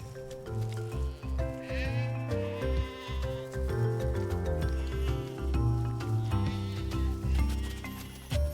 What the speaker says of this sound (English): Harold drew some sheep too.